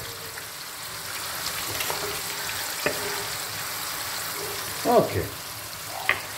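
Cold Tropea onions sizzle in a hot pan over raised heat for a pork roast, a steady frying hiss broken by a few stirring clatters, with brief talk from the cook.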